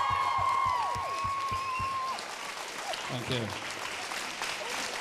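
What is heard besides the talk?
audience applause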